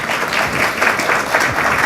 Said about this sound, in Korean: 부종민님을 큰 박수로 맞이해 주십시오